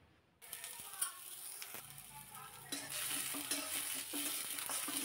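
A plateful of chopped onion, about two onions, fries in very little oil in a kadhai. A soft, steady sizzle carries scraping stirring strokes and grows fuller partway through, with no talking.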